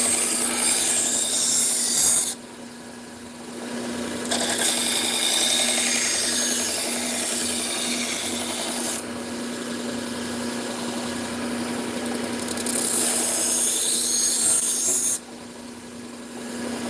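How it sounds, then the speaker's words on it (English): Knife blade drawn edge-trailing across a sharpening stone, recurved edges, in long continuous rasping strokes with brief pauses between passes, close and steady with a constant motor-like hum underneath. "So I'm going to do edge trailing on those when you have those recurves like that."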